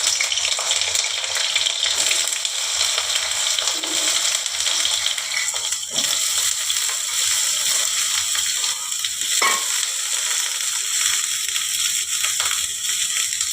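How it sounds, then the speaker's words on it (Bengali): Diced eggplant fries in hot oil for a Bengali lote fish curry. A steady, fairly loud sizzle runs throughout, with a few faint clinks and stirring sounds and no talking. "এবারে বন্ধুরা আমি এই বেগুনগুলোকে যে ডুমো ডুমো করে কেটে রেখেছি,"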